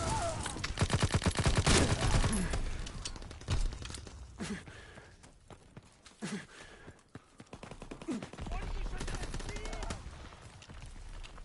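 Rapid gunfire from Call of Duty: WWII multiplayer on PS4, dense and loud for the first two seconds, then sporadic shots and bursts with quieter battlefield noise between.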